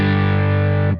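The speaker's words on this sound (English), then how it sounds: "Get some big, like, thick crunch tones on it." Blackstar St. James guitar amp on its first channel with the volume fully cranked, a loud, thick, sustained distorted crunch chord ringing for about a second before cutting off abruptly.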